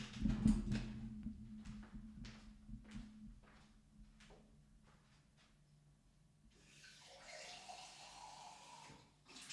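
Tap water runs into a glass at home, a faint splashing stream in the final seconds, preceded by scattered soft clunks and footsteps in a quiet room.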